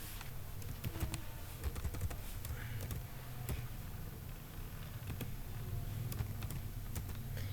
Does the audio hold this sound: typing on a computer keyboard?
yes